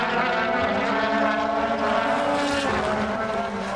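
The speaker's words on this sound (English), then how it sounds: "There's the AMG car of Paul di Resta." A Mercedes AMG DTM race car drives past at the Valencia circuit, a loud, continuous engine howl with a slight pitch sweep as it passes, with no pause throughout.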